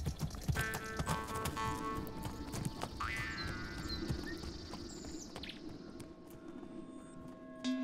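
Horse hooves clip-clop steadily as a warrior hero rides off homeward on horseback through his native valley in an Altai folk tale, close and moderately loud, with faint birds chirping in the background.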